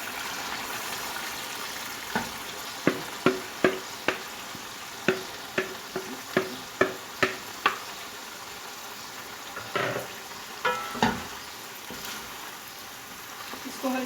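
Okra (bhindi) fries with lightly roasted spices in a pan, a soft steady sizzle broken by a run of crisp, distinct pops and clicks spaced about half a second apart, close by.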